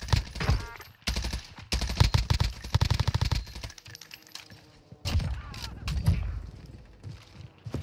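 Gunshots in a first-person shooter video game, rapid automatic bursts in quick rhythmic volleys, loud and close, with brief pauses between strings of fire.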